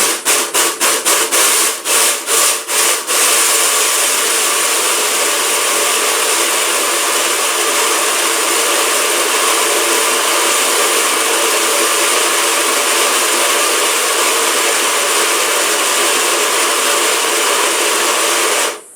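A few short stuttering bursts, then a loud, continuous high-pitched whir of an electric grinder grinding grains and seeds at close range, running steadily and cutting off abruptly at the end.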